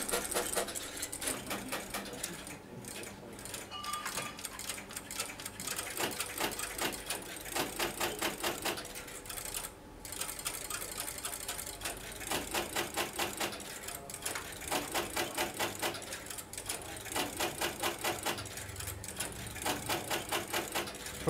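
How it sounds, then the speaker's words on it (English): An early computer's printer prints out a calculation result as a steady, close run of fast mechanical chattering and clacking, with rhythmic bursts that continue for about twenty seconds with no talking. "And now that's being printed out on the printer."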